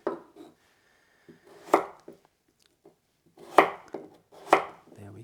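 A knife cuts carrots into pieces on a cutting board, producing sharp close chops in uneven bursts with quiet gaps between them.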